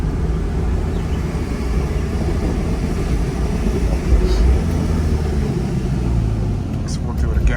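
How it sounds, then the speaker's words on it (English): Porsche 911 launching with launch control, a loud steady engine roar that holds strong throughout with a slight surge midway, close and continuous. "as soon as you let go of the brake, the car launches"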